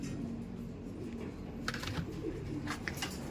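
Pigeons coo softly while being fed, low murmuring calls over a steady background hum, with a few brief sharp pecking or clicking sounds near the end, no talk.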